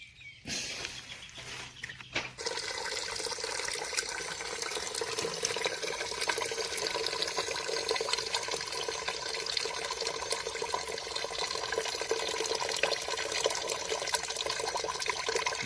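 Wood vinegar drains from the tap of a 200-litre barrel used for charcoal making, a steady close rush of liquid that starts after a brief pause and keeps pouring evenly to the end.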